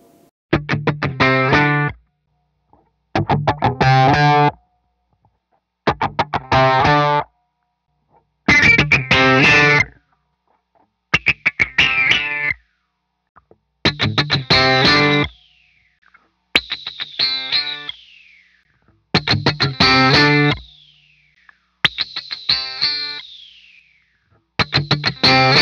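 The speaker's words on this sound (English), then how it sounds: "let's listen to what this pedal sounds like in the various positions engaging and disengaging the bass switch" An EHX Nano Doctor Q envelope filter pedal on guitar, its bass switch toggled on and off: ten loud strummed bursts with bright, sweeping wah-like filter quacks, separated by short silences, with no talking.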